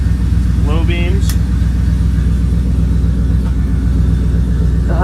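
Engine of a Studebaker pickup rat rod idling steadily with a deep, even rumble throughout, while someone talks over it.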